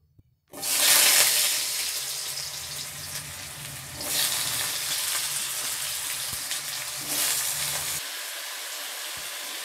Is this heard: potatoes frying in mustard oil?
yes